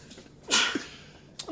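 One close, sharp sneeze with a quick inhale before it, followed by a faint breathy sound.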